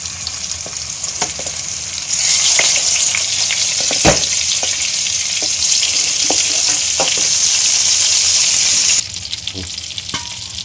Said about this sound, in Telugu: ముందుగా స్టఫ్ చేసుకున్న వంకాయలని ఈ నూనెలో వేసుకుందాం